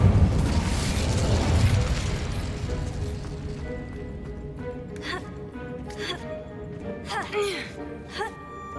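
The Incendio fire spell in Hogwarts Legacy bursts out in a loud whooshing roar that fades over a few seconds, followed by crackling pops and tonal magical chimes.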